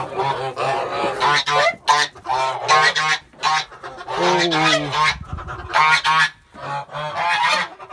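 Geese honk loudly and repeatedly, overlapping nasal calls in quick bursts with brief pauses, close by.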